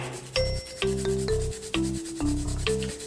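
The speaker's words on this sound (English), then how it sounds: "Grate the garlic" Garlic is grated for Japanese soy-sauce pickled egg yolks: a close series of rhythmic scraping strokes with faint ringing tones from the grater, quiet and without speech.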